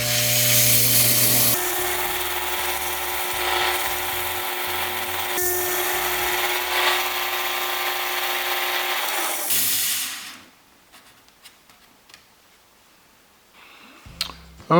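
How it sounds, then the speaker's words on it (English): A faceting lap grinds an aquamarine gemstone, a steady close whirring grind with a high whine lasting about ten seconds before stopping, followed by faint clicks and handling noises. "I'm going to go ahead and continue to grind until that is flat"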